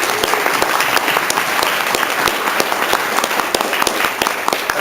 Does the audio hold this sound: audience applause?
yes